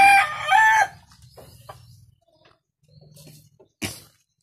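A fighting rooster of an imported breed crows loudly up close at the start, followed by quieter clucks and rustling, then a sharp short call near the end.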